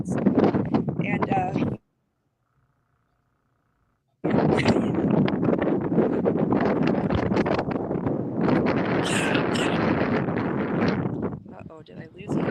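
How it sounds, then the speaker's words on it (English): Strong North Dakota wind buffets the microphone in a loud, continuous rumbling roar, broken by a brief silent gap and easing toward the end. "we're hearing the wind of North Dakota, that incessant wind"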